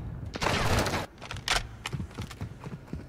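Rapid bursts of gunfire from a first-person shooter game in ranked play, loud and close, with clicky keyboard typing and brief pauses between volleys.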